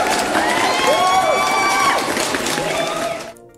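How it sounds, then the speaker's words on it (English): A small audience applauds and cheers, with whoops and high shouted voices rising over the clapping before it cuts off abruptly. "let's give her a round of applause"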